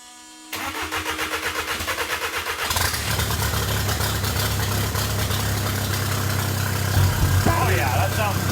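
A four-cylinder engine, freshly fitted with a replacement injector, cranks briefly then catches and settles into a loud, steady idle close to the exhaust, with a person talking over it.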